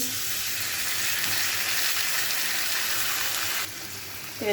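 Spices with turmeric frying in hot oil, a close, even crackling sizzle that runs steadily throughout and eases slightly just before the end.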